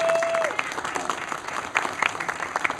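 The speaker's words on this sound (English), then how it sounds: "let's give them a round of applause" Audience applause after a live talk between atheists and Christians, a steady broadband clatter of clapping filling the room, with scattered louder claps standing out and a brief tone at the start.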